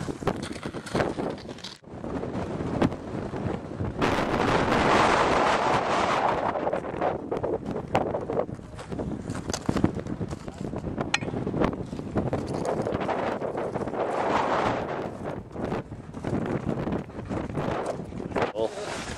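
Strong wind buffets the microphone on the Mt. Washington summit, 6,288 feet up in cold conditions, roaring loud and continuous with gusty surges throughout.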